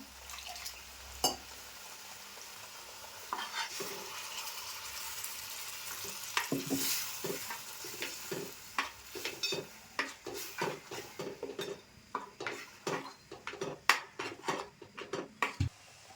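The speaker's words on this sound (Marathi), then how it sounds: "आता तिकल्याला मस्त अशी उकळी आली आहे" Malvani-style fish curry (tikhle) bubbles in a pot on the stove as a spoon stirs it, with a soft simmering hiss under a series of close metallic scrapes and clinks against the pan.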